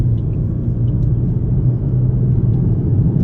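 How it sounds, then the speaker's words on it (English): A 2022 Toyota Prius Limited accelerating at half throttle, heard as a steady low road and drivetrain rumble inside the cabin, quiet and even throughout with no voices. "Obviously not stepping on the gas too hard there, but we still get to speeds pretty quickly."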